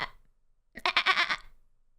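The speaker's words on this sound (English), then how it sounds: "Was that a goat? A goat, right?" A goat gives one wavering, quavering bleat lasting under a second, close and clear, following a brief faint sound in otherwise quiet surroundings.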